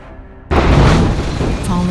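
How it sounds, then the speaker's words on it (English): A loud explosion after a car slams into the back of a parked truck, used as a horror story sound effect: a sudden deep boom cuts in after a quiet start, then a long rumbling roar with crackling debris. "followed by a loud, terrible explosion"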